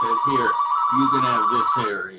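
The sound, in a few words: telephone ringing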